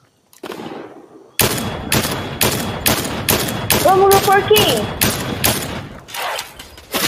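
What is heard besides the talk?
gunfire in a video game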